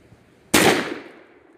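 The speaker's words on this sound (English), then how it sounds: "go ahead and shoot when you are ready" A shotgun fires a cut shell loaded with five shot into plywood outdoors: one sharp, loud blast followed by a short decaying echo, with no talk.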